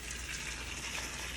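Boiling water poured steadily over spinach in a kitchen sink, a continuous hissing gush close by, no talking.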